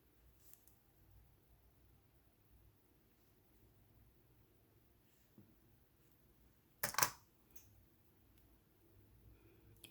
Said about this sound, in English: and then before I cut my thread